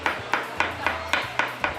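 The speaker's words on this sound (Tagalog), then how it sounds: "pinupukpok lang nila ang poste ng fish pond" A post at an arapaima fish pond is struck repeatedly to call the giant fish to feed, giving a steady run of sharp metallic knocks about every quarter second over a low background hum, with no talking.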